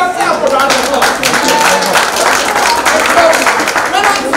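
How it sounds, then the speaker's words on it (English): Audience applause at a company event, a steady dense wash of clapping from a crowd that fills the whole stretch at fairly loud level without letting up. "Give yourself a round of applause."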